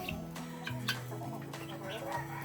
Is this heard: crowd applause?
no